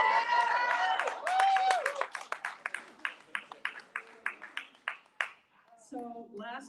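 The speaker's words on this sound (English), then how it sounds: "could you at least stand up and applause for me?" Singing voice at a church service gives way to a scattered handful of hand claps from the congregation, sparse and uneven, fading out before a brief tonal sound at the end.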